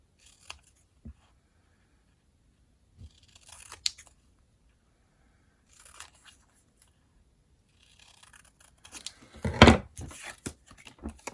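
Scissors cut paper ephemera for a junk journal: a few sparse, quiet snips with pauses between, then a louder cluster of cutting and paper rustle near the end.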